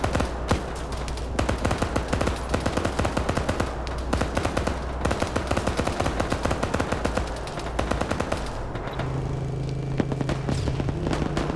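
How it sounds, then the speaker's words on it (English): Dense, relentless machine-gun and rifle fire from enemy forces in a military combat video game, continuous close bursts layered over one another for the whole stretch, with a low engine drone joining near the end. "They're coming under enemy fire."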